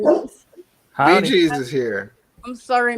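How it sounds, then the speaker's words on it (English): A dog barks and yips in short bursts in a home during an online chat, mixed in with close conversational speech. "my dog's going crazy"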